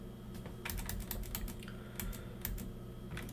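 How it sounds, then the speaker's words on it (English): Typing on a computer keyboard while entering Cisco router configuration commands, a quiet run of close, irregular key clicks in short bursts with pauses between, no voices. "I'm going to hit the up arrow and type in no IP OSPF authentication"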